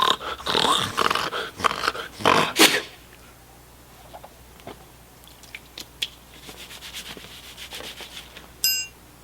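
A dog growls and snorts in close, rough bursts through the first few seconds, then quieter scattered rustling and brief noises follow.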